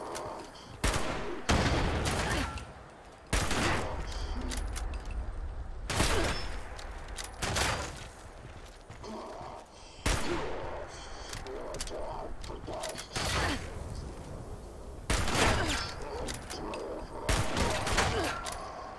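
Enemy gunfire in Fallout 76 from a shooter up high, loud repeated bursts of shots in clusters across the whole stretch with brief quieter gaps between them.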